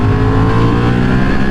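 A Honda Hornet 750 motorcycle engine drones loudly and steadily at sustained revs, heard close up with constant wind and road noise.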